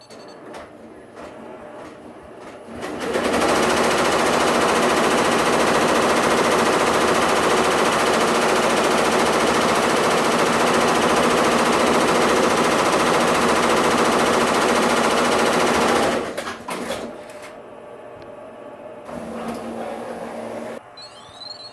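An embroidery machine stitches a notch guide line on a fitted face mask piece, a rapid, steady mechanical rattle running loud for about thirteen seconds, with quieter machine noise before and after.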